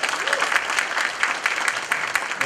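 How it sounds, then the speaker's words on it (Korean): Dense applause from an audience at a presentation in the National Assembly Members' Office Building, many hands clapping at once, loud and sustained throughout with no pause. "박수 보내주시기 바랍니다"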